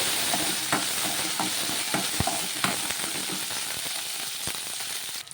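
Green chillies fry in a pan for a chutney, a close steady hiss of sizzling oil broken by repeated spatula scrapes as they are stirred.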